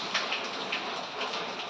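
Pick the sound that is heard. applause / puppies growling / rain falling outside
rain falling outside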